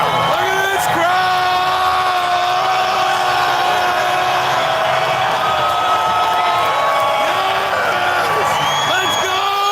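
Large political rally crowd cheering, whooping and yelling continuously and loudly, with voices shouting close by over the dense roar.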